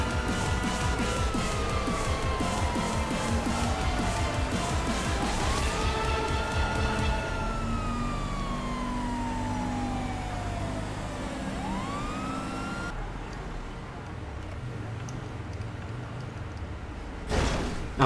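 Police car siren in the video game GTA5, a loud wailing tone sweeping up and down over vehicle engine noise, cutting off partway before a short burst near the end.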